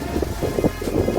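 Heavy rain in a storm, with strong wind bending trees, makes a dense, steady, close roar with no pauses and no voices.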